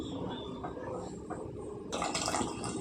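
Water pours steadily into a curry of phool makhana and Meal Maker soya chunks, a close continuous splashing stream that grows louder and brighter toward the end.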